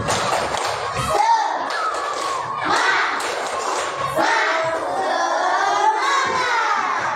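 Children in a classroom join a rhythmic spirit clap, with bursts of clapping and thumps mixed with kids' shouting voices, fairly loud and close throughout.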